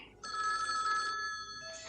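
A telephone bell rings in a 1960s French TV drama scene, a steady bright ringing that starts abruptly and sustains at moderate level, with a faint voice underneath.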